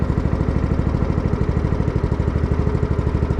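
Engine of a VSI Legacy Series 750 liquid deicing sprayer running steadily, a loud, close, even idle chug with a rapid regular pulse and no voices over it.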